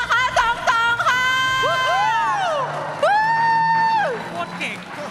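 A crowd at an FC Mobile esports festival in Bangkok cheers with loud, rising whoops and shouted cries, bursts of excited voices overlapping in a lively hall.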